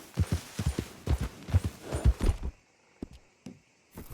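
A horse's hooves clip-clop in Red Dead Redemption II, a quick, even rhythm of close hoofbeats that runs for a couple of seconds and then stops, leaving a few faint knocks.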